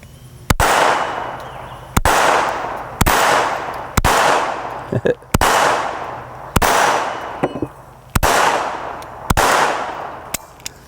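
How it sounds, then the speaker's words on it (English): Sharp shots from a compact .22 micro pistol fired at close steel targets, about ten evenly spaced loud cracks, each with a bright decaying ring, alone without talk. "I'm going to go ahead and shoot a couple targets here"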